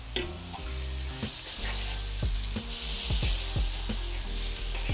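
Wagyu steak sizzles steadily on a hibachi griddle as it is cut, with repeated sharp metallic clacks of a knife or spatula against the hot steel over a continuous frying hiss.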